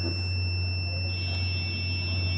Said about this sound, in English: the alarm giving you sound